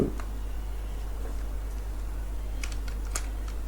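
Sparse keystrokes on a computer keyboard tap out HTML code, a few isolated clicks and then a quick cluster near the end, faint over a steady low hum.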